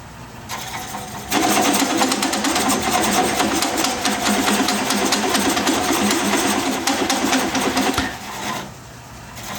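A coring tool cuts into a wood bowl blank spinning on a lathe, making a loud, continuous rasping scrape that starts abruptly, holds for about seven seconds, then drops away.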